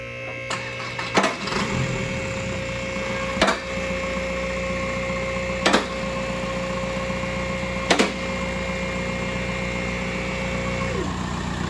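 A Volkswagen Jetta TDI diesel with an oil leak idles with a steady low drone, with a few sharp clicks or knocks at intervals, close by in a workshop.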